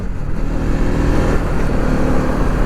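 Engine of a Bajaj Pulsar NS200 motorcycle on a ride, a loud, close, continuous rough drone with slight swells of revving throughout.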